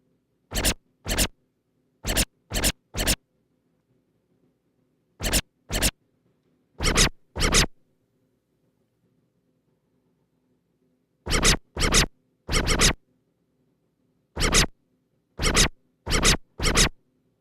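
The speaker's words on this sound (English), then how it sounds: "This goofy scratch." Short scratchy percussive sample bursts fire in quick pairs and small clusters separated by silent gaps, bright and close, with no voices.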